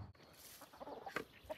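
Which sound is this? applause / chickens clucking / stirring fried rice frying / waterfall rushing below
chickens clucking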